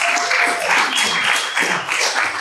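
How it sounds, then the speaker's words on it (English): Live event audience clapping for business panelists, a dense steady applause throughout the short clip, fairly close and loud. "So please can I have a round of applause for our amazing panelists"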